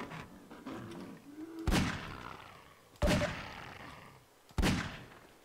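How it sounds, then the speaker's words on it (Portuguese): Gunshots from the video game Half-Life 2: three sharp, loud shots spaced about a second and a half apart, each with a ringing decay, after a moment of faint murmuring. "errei todos os tiros"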